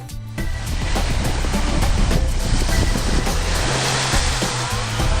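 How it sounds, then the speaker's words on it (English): Surf washing onto a beach on the Italian coast north of Lido di Ostia, a steady broadband rush of waves with low rumbling swells, fairly close and continuous with no voices. "So here I am, I've just arrived on the beach."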